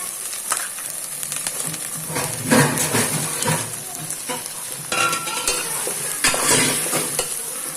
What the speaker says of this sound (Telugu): మసాలా స్పచ్చి స్మెల్ అనేది పోయేంత వరకు ఫ్రై చేయాలి